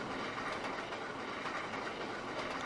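A train runs on the Settle and Carlisle route in the Trainz: A New Era simulator, with a steady rolling rumble and faint rhythmic wheel clatter at moderate volume, no talk.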